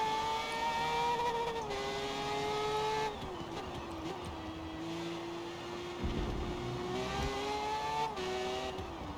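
A race car with a 20B three-rotor rotary engine in a racing video game holds a loud, steady high-pitched drone with rising and falling revs and brief dips at gear changes, alone with no talk.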